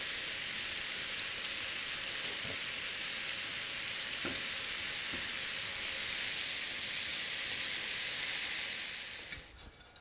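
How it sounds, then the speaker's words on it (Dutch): Strips of pork fry and sear in a hot pan, a loud, dense, continuous sizzle with a few faint clinks, close up and without speech, fading slightly at the end. "Niet gelijk omschudden, eerst even de tijd geven om te schroeien."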